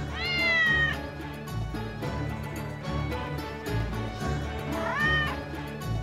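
A cat meows twice, a long rising-falling cry near the start and another near the end, over busy background music.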